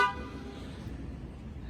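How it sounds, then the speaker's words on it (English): Factory horn on a 2020 Ram 1500 pickup truck gives one short toot at the start, then fades into a steady low hum with nothing else clear. "So when the system is off, here's your factory horn."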